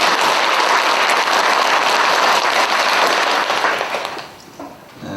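A Korean church congregation claps together for the Zion choir at an elevator completion service, a dense, sustained round of applause from many hands that fades out near the end.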